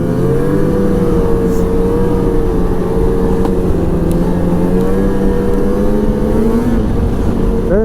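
A 2006 Ski-doo Renegade 600 SDI snowmobile on a trail gives a loud, steady two-stroke engine drone that holds a constant pitch with slight shifts, captured close from on board and heard alone.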